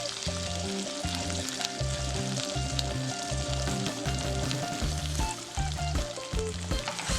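Nestle condensed milk hits a hot pan of popcorn, setting off a loud, continuous sizzle that carries steadily throughout, with a pulsing low rhythm underneath.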